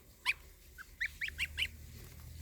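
Geese and young goslings out on grass, giving a short series of about six nasal honks and calls, fairly close and clear with quiet pauses between them.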